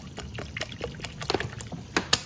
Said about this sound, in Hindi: ये अब इसमें 2 गिलास पानी डाल दें।